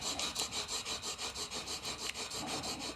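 A one-inch-wide chisel is pushed back and forth on sandpaper to put a secondary bevel on it, a quiet, rhythmic gritty rasping with about a dozen even strokes in steady succession.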